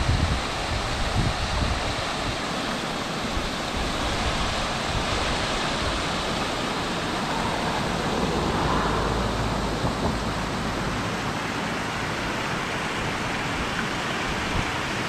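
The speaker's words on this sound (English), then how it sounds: "Look at this waterfall, though." Heavy water roars below Big Bear Dam, where one tall waterfall splits into three falls, a steady loud broadband rush with no talking.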